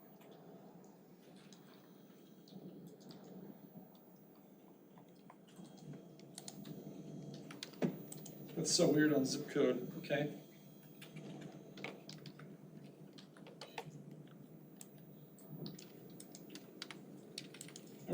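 Fingers type quickly on a computer keyboard while filling in fields of a SIMnet guided project, tapping keys and tabbing between fields in fast irregular bursts, with a denser flurry midway and a brief spoken remark.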